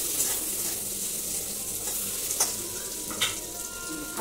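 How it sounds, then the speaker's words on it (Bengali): Potatoes fry in a pan with a steady, loud sizzle, while a spoon stirs through them with occasional scraping clicks against the pan. "আলুটা ভাজছি তো, এত করে নাড়াচাড়া করতেই হবে"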